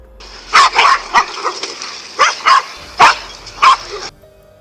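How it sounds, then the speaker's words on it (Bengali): Dogs attacking a snake let out a series of sharp, close barks and yips in uneven bursts, some doubled, with brief pauses between volleys. "এই ভিডিওতে অন্য দুটি কুকুরকে একটি সাপকে আক্রমণ করতে দেখা যাচ্ছে।"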